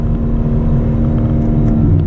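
BMW M4 Convertible engine in Sport Plus mode, a loud, steady low exhaust drone with a constant tonal hum heard from inside the moving car, no speech.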